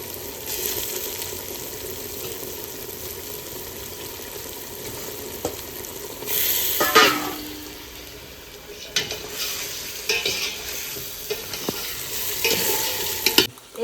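Large chicken leg pieces go into a pan of cooked-down spice masala for biryani, sizzling steadily while a spoon stirs and scrapes, with louder clatters partway through.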